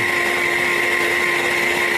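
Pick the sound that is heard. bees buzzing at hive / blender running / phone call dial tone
blender running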